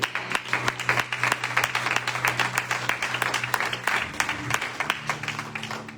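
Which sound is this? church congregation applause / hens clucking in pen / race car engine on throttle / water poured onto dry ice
church congregation applause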